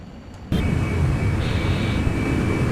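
A McDonnell Douglas F-15 Eagle jet climbing vertically in the X-Plane flight simulator gives a sudden loud surge of engine roar that holds as a steady broadband rush with a faint high whine.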